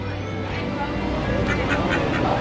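A Disney duck toy quacks repeatedly in a quick series of raspy, nasal bursts, close and fairly loud, over a steady background hum.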